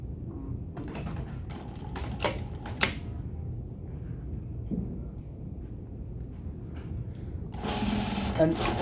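Close-up sewing machine edge-stitching tape onto fabric for a bustier eyelet closure, running in short bursts of steady mechanical whirring, with a few clicks and handling noises between runs.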